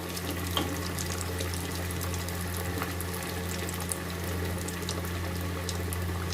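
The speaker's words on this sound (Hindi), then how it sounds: "अब हमारा फ्राई हो रहा है" Bread paneer lollipops fry in oil over a medium flame, giving a steady soft sizzle with scattered tiny crackles and a faint low hum underneath.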